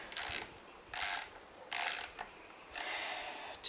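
A ratchet wrench loosening half-inch bolts on a McCulloch ProMac 610 chainsaw, four separate bursts of quick clicking, close and clear, with short pauses between them.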